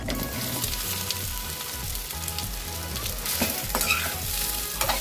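Fenugreek dumplings sizzle and crackle steadily in hot oil with sesame seeds, close and fairly loud, with a few louder pops and spatters and no talking.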